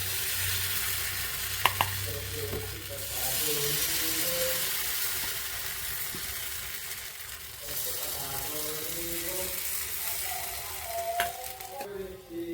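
A carrot mixture hitting an oiled pan for carrot patishapta sizzles continuously, with light scraping and stirring and a few faint squeaky tones, close and steady with no voices.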